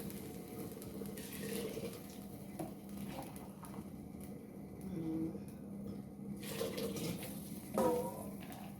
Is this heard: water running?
yes